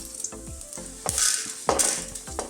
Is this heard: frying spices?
yes